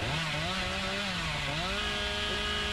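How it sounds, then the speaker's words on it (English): A chainsaw revving in the video game Dead by Daylight, a loud continuous buzzing drone whose pitch rises and dips as the throttle shifts, heard alone. "I hear chainsaws."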